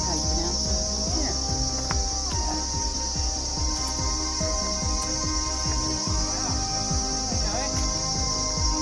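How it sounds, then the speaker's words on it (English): Cicadas near the Canungra tramway tunnel, a constant high, shrill drone running beneath irregular low clicks and chirps, steady and fairly close throughout. "that noise you can hear in the background, that's cicadas."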